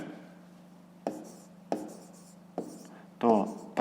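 A pen scratches on paper while a math answer for a fifth-grade exercise is written down: a few short, crisp strokes at irregular intervals, close by, with quiet speech around them.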